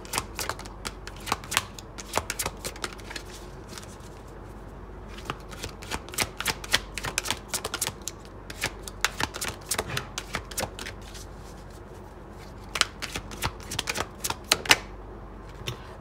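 A deck of numerology cards is shuffled and drawn, with rapid bursts of crisp flicking and riffling separated by brief pauses, close and fairly quiet.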